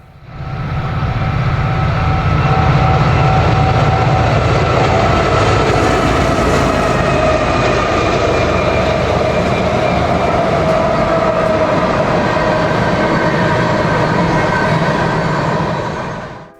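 A westbound train passing on the Sand Hills Subdivision, a loud steady roar of wheels and rumbling cars close by, with faint tonal squeals, sustained throughout and fading at the end.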